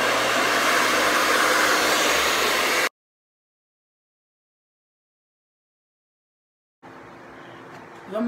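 Hair dryer blowing hard on hair in a loud, close, steady rush of air, cutting off abruptly, followed by several seconds of silence and then a fainter noisy return.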